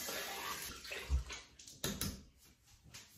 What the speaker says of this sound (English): And then I'm just gonna wet my hair.